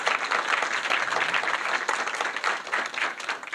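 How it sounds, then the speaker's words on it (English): A dense wash of audience applause at an evening health technology event in New York, many hands clapping steadily and fairly loud for several seconds, with no voices standing out. "If we get a round of applause for Epion Health for hosting us tonight."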